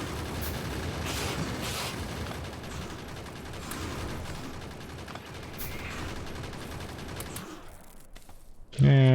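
Factorio turrets fire sustained rapid bursts of automatic gunfire for several seconds, loud and continuous, then cut out abruptly near the end.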